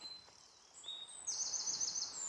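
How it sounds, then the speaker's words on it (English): Birdsong rings out in the Northumberland countryside, thin high chirps and a brighter trill rising over quiet open-air background, faint and somewhat distant. "Listen to that bird song, beautiful."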